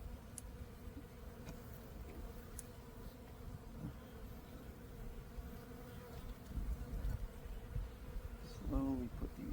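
Honey bees buzz in a continuous, moderately quiet drone around an open backyard hive during an inspection, with a few nearer passes and light handling noises.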